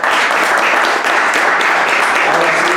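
Loud, close audience applause in a café during a book presentation, a dense, continuous burst of many hands clapping with no pauses.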